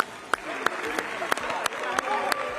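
A crowd applauds for the second-place team at a school renewable energy competition ceremony, with steady clapping and sharp individual claps punctuating it, moderately loud and continuous.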